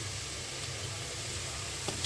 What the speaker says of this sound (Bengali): কড়াইতে তেল দিয়ে দিলাম।